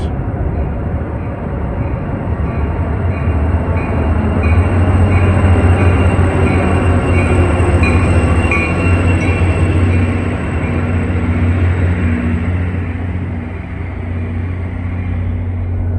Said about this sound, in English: 454 arriving as train 53 for Port Jervis.